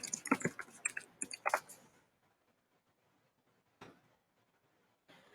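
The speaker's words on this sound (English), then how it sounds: "Now I'm going to enter my username and my password." Quick bursts of computer keyboard typing as a username and password are entered, clustered in the first two seconds, then near silence with a couple of isolated faint clicks.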